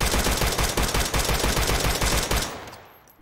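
Rapid automatic gunfire from an AR rifle with a 3-inch barrel and muzzle brake in a video game, a loud fast string of shots that stops and leaves a fading echo.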